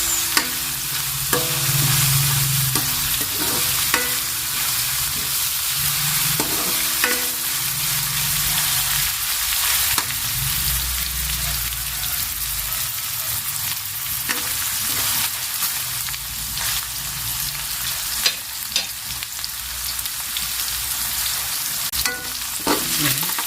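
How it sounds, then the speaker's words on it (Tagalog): Meat sautéing in a pan with garlic and onion, a steady loud sizzle running throughout, broken by repeated scraping stirs and occasional clinks of the utensil against the pan. "Nagigisa po tayo ngayon ng karne."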